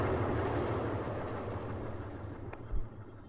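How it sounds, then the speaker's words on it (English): A train rushes past within Pink Floyd's Atom Heart Mother, a steady broad roar of rolling wheels and rail noise that holds for several seconds and swells briefly near the end. "A train."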